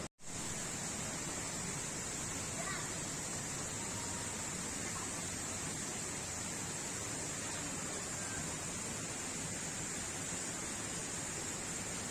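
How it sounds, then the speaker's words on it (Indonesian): Steady, dense roar of crashing water from a waterfall on a trekking trail at Bedengan, Selorejo, Malang, continuous and unbroken for the whole stretch with no voices. "Suara deburan air yang Grocok"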